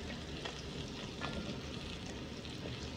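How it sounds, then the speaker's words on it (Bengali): Potato pieces fry in hot oil in a pan, giving off a dense, even sizzle and crackle that carries steadily throughout, with no voices. "আলুটাও ভেজে নিচ্ছি।"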